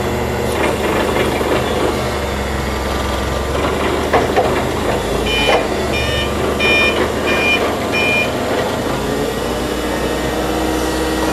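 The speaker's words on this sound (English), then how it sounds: "put the machine in forward and reverse just to make sure it'll operate properly" Forklift being driven forward then in reverse during a performance check, with a steady engine and mechanical hum throughout and a series of repeated reversing beeps partway through.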